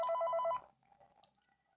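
A phone call rings in the video game Five Nights at Freddy's 3, a short burst of repeated electronic ring tones that cuts off abruptly and leaves near silence.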